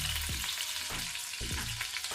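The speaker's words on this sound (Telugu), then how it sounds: "ఇప్పుడు ఇందులో 1/4 కప్పు వరకు ఉల్లిపాయ ముక్కలు," Onion pieces frying in a pan for pav bhaji, a steady loud sizzle with a few soft stirring scrapes repeating at roughly half-second intervals.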